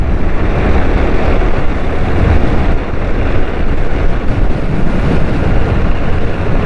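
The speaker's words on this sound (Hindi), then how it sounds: "बहुत तेज हवा चल रही है यार" Strong wind roars and buffets the microphone continuously while riding a motorcycle in Korangi, Karachi, a loud, dense rumble with no clear breaks.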